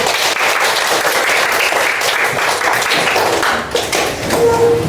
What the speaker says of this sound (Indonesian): Baik, tepuk tangan untuk kita.